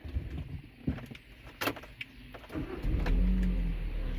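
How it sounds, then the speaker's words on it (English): A car is started with a smart PKE immobiliser fitted, a brief crank near the middle followed by a steady low engine rumble rising toward the end, fairly quiet and close. "So now I'm going to start the car again."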